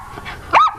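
A dog gives a single sharp close bark, loud and alone after a faint soft whine.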